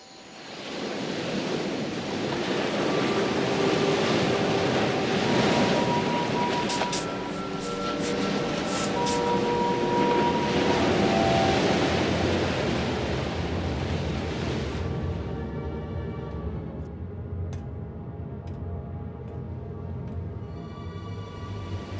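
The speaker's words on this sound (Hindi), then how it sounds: "लहरें काफी तेज हैं।" Strong ocean waves surge and crash in a steady roaring wash of surf with wind, loud and continuous throughout, easing slightly near the end, with no talking over it.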